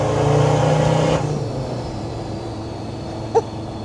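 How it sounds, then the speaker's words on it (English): A Land Rover Defender Td5 fitted with a VNT turbo pulls hard at full throttle, its engine drone loud and steady before easing off to a lower hum, with a brief sharp knock near the end. "the turbo spooled up pretty hard there"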